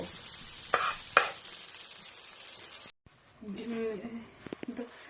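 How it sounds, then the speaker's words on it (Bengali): Chickpea-lentil dhoka filling being stirred and dried in a hot pan, giving a low sizzle with a couple of sharp spatula scrapes, then a break and faint clinks and rustles, no talking. "ধোকার পুরটা আমি নাড়তে নাড়তে অনেকটা শুকিয়ে ফেলেছি।"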